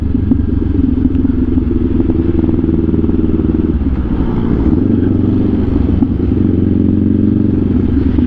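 A Kawasaki Ninja 500 with an aftermarket exhaust holds a steady, loud, throbbing idle near 2,000 RPM, with a slight dip and lift in the engine note midway, heard up close and with no talk over it.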